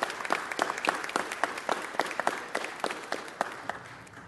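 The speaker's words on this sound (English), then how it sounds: "Give him a round of applause." An audience at a city council meeting applauds a golf scholarship recipient, giving steady, moderately loud clapping from many hands in a room, with no voices over it.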